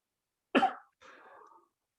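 One sharp, close cough during a yoga breathing session, followed by a softer, breathy throat-clearing exhale, then silence.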